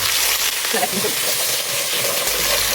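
Onions frying in a pan for mung dal with meat, a loud, continuous close sizzle and hiss with faint stirring, a voice briefly audible underneath.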